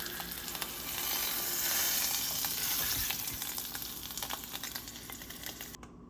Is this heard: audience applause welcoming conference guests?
no